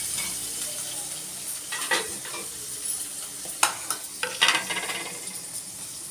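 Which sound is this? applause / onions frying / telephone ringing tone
onions frying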